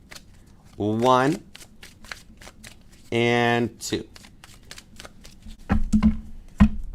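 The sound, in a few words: shuffling a deck of cards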